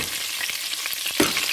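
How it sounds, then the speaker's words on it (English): Seasoned chicken with vegetables (avocado, spinach, green peas) frying in a pan for a chicken vegetable pie filling, a steady close sizzle with soft crackles and a brief stir or clink near the end. "I'll go ahead and start frying up"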